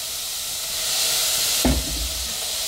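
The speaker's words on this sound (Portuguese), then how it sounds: "E vou deixar essa cebola aqui também refogar até ficar transparente" Chopped onion softening in a hot pan for wheat soup, a faint steady sizzle that jumps into a louder burst of frying partway through.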